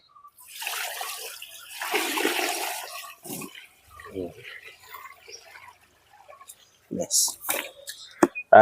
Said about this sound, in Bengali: জলটা ফেলে দিলাম